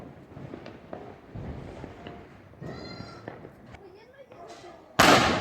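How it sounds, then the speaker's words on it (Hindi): Firecrackers going off during Diwali celebrations, a scatter of sharp pops and bangs under ongoing talk, ending in a loud close burst. "पटाखे छुड़ाए जा रहे हैं"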